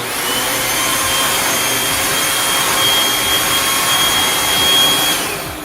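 A Bissell Featherweight vacuum cleaner runs steadily with a loud, even whooshing roar and a thin high whine, no one talking, then winds down at the end.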